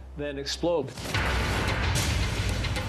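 A volcanic eruption blast comes as a sudden deep rumbling roar that follows a voice and then keeps going as a dense, loud, continuous wall of noise.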